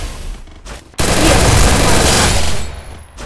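Gunfire in the Free Fire video game bursts in suddenly as a loud, dense, continuous volley lasting about a second and a half, then drops away, following quieter game sounds.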